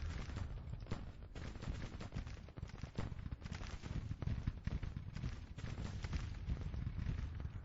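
Musket volleys from Pender's brigade rattle across a Grand Tactician Confederate campaign battle of spring 1861. The fire is a continuous, dense crackle of many overlapping shots that rolls on steadily at moderate loudness with no pauses. No voices are heard.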